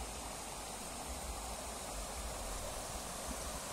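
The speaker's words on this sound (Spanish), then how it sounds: "Me callé un ratito para que escuches el sonido del río, que es bastante relajante." A river flows at Peñitas in Coquimatlán, Colima, Mexico, giving a steady, soft broadband rush of water that holds even throughout, faint and distant, with no voices.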